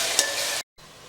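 Onions fry in a pan for a Mughlai chicken curry, a dense, even sizzle heard up close for under a second before an abrupt cut, then a quieter hiss resumes.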